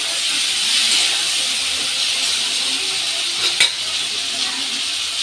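Vegetables and chopped onion frying in a pan, a constant hissing sizzle with a brief stir or clink near the middle, close and fairly loud.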